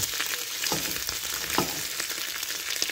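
Pork ribs frying in a pan with a dense, crackling sizzle that holds steady, marked by a couple of brief scraping stirs and no speech.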